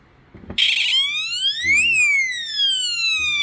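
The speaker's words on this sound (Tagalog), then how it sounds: "Earthquake alarm yan ha." A homemade earthquake alarm is shaken: a few knocks, then a loud piercing electronic siren wails close by, holding a tone before sweeping up and back down and continuing steadily.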